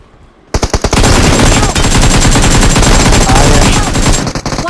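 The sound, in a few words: AKM rifle gunfire in a shooter video game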